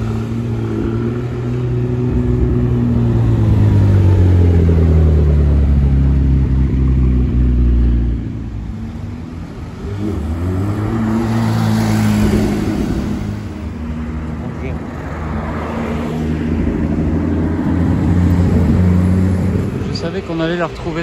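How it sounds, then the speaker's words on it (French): Ultra-rare Nissan R390 car on a Monaco street, with a loud, close engine that rises and falls through revs as it moves, while traffic noise continues underneath and people talk throughout. "La Nissan R390. Une voiture ultra rare."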